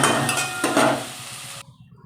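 Food cooking in a pan on a gas stove in a home kitchen, with a steady sizzle and a couple of clanks of utensils against the pot before it cuts off abruptly.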